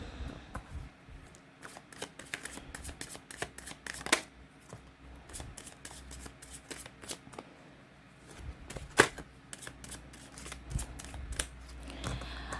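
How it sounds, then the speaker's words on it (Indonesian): Tarot cards shuffled by hand during a reading, a long run of crisp riffling and slapping bursts, close and fairly quiet, with no talking. "Sambil saya baca doa dan saya kocok kartunya"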